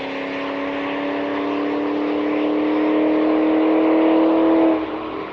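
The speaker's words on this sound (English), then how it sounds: "I don't think we've ever seen a Bentley go down the drag strip." A Bentley accelerating down the drag strip at St Thomas Dragway, its engine drone climbing steadily in pitch and loudness for several seconds before abruptly dropping away near the end.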